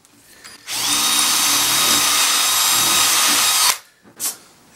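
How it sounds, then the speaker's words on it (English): A power drill whirs steadily into wood for about three seconds, close and loud, then stops abruptly. "The reason I drilled the holes is just simply to make them a little bit bigger"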